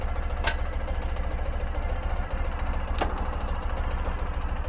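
A cold Ural Retro motorcycle engine idles on a slight uphill, a steady low pulsing throb running continuously at close range with faint mechanical ticks, no talk.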